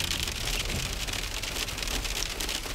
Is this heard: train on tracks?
no